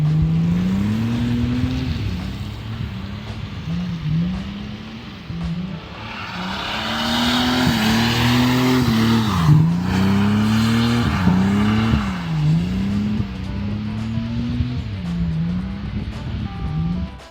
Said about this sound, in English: This is the exact moment I spun a rod bearing.